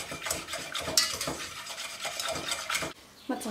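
Spoon scraping and stirring flour-based white sauce in a pan over a medium gas flame, a steady run of close scrapes and knocks against the pan, then a brief lull near the end.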